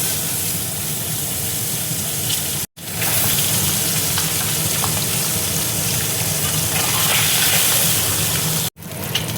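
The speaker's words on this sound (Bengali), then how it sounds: "এবার আমি ডিমগুলো ভেজে নেব।" Eggs frying in hot mustard oil in a wok, a steady dense sizzle that carries on throughout, broken by two brief silent gaps.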